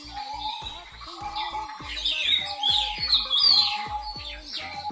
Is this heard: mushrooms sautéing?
no